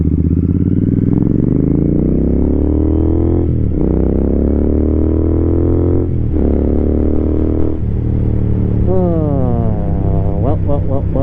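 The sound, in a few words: motorcycle riding off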